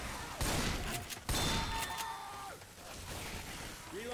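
Gunfire in Left 4 Dead 2, two sharp broadband shots about a second apart against a busy game background of mechanical whines and pitched effects, fairly quiet overall.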